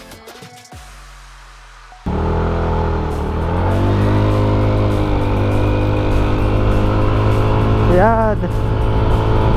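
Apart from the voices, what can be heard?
motorcycle with stock CVT torque spring revving slowly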